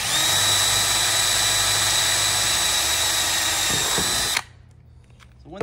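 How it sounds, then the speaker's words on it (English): A cordless drill whines loudly and steadily for about four seconds while drilling a motorcycle lower fairing, then stops abruptly, leaving faint clicks and room noise. "hand drill it like I am with just a little cordless drill"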